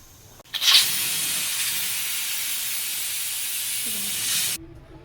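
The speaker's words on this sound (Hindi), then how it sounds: "अब हम इसका वेट उठा देंगे और आपने इसको आराम से वेट उठाना है, ध्यान से" Steam bursts from a pressure cooker of beef yakhni for pulao as its weight is lifted: a sharp onset, then a loud steady hiss for about four seconds that cuts off abruptly, leaving quiet room sound.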